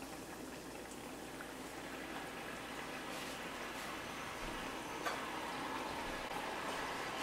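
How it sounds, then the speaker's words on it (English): Aloe vera cooking in coconut oil in a pan, a soft, continuous bubbling and frying hiss, faint and steady with occasional small pops, no talk. "So let's cook this aloe vera for 10 to 15 minutes."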